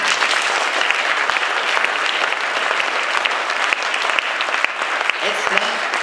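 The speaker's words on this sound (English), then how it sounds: "deserves a round of applause" Loud, sustained applause from a crowd at a public scoping meeting about a dam, dense, close and continuous, with some voices mixed in.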